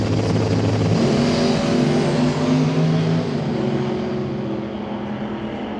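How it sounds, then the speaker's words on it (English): A loud 1937 Chevy drag racing a Camaro at a drag strip, engines roaring steadily at full throttle close by, the heavy drone fading slightly toward the end. "Very loud 37 Chevy"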